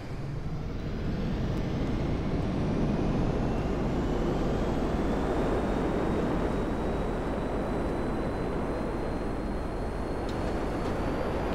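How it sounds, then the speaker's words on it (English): A jet aircraft flies in a video game, giving a steady, loud engine roar that holds evenly for over ten seconds with no voices over it. "I'm in my jet now."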